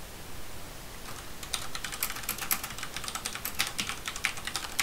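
Rapid, steady typing on a computer keyboard while writing in the Tomboy Notes app on Sabayon Linux, light clicky keystrokes over faint hiss, with no talking.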